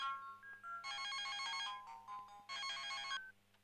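A mobile phone rings with an electronic ringtone, two bright warbling bursts separated by a short pause, moderately loud against a quiet indoor background with a low steady hum.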